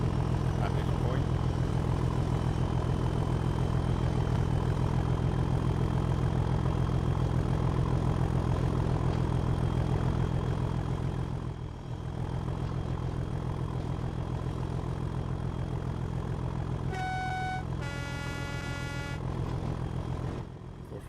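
Train engine at full thrust in a train driving game, a loud continuous low drone held steady throughout, with a short tonal horn-like burst near the end.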